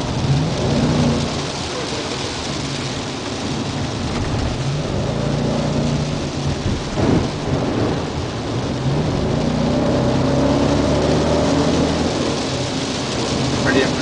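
Heavy rain and rolling thunder heard from inside a driving BMW X5, a loud steady roar of rain on the body with low rumbling swells throughout.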